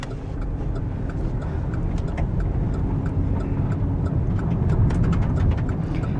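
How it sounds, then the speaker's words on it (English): A car rolling slowly over pea gravel, a continuous low engine rumble with scattered crunching pops from the stones, fairly close and steady. "You can probably hear the pea gravel."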